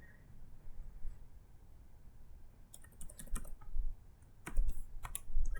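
Keyboard shortcuts typed on a computer keyboard, with clustered bursts of sharp, close key clicks after a quiet stretch and a faint room hum throughout.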